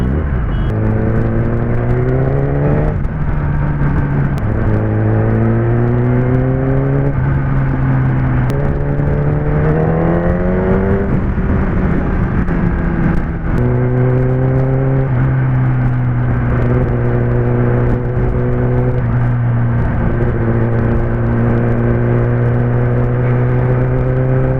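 A 1000cc superbike riding through traffic, its engine note rising and dropping again and again as the rider works through the gears, loud and close, with a constant roar of wind and road underneath and no speech.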